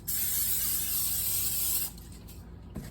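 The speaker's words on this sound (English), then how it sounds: "we need to spray it with cooking spray" A steady aerosol cooking spray hisses onto a frying pan for nearly two seconds, then stops, leaving quiet room noise and a small clink at the end.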